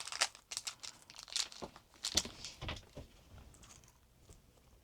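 A custard-filled pastry torn apart by hand, giving soft crinkly tearing and rustling bursts close by, several uneven pulls in succession, fading toward the end.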